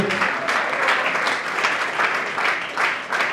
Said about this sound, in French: est-ce qu'on peut applaudir bien fort pour ce 30 ans de carrière?